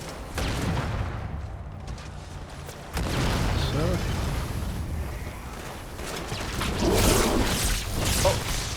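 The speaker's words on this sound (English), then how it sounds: "Explosions for everybody." Grenades explode in Halo 2 combat, with several heavy booming blasts and rumbling bursts over continuous battle noise and whooshes, loud and close, with a voice talking underneath.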